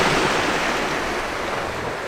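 Ocean waves wash steadily onto the beach at Ponta do Sol, Madeira, a loud, continuous broadband rush of surf mixed with wind buffeting the microphone, with no voices.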